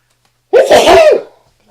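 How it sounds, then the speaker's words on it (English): A person lets out a single loud, close sneeze, a sharp burst that fades within a second, during a PowerPoint presentation about Nepal. "Sorry, I need to sneeze."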